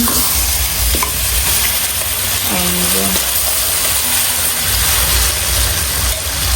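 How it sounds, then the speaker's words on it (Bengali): Crushed olives go into hot oil already seasoned with dried chillies and five-spice seeds for a pickle, and they sizzle steadily and loudly with a continuous hiss. Brief clinks and stirring noises come through as well. "সেই থেতলানো ইয়ে জলপাইগুলো দিয়ে দেওয়া হবে তেলের ভিতরে"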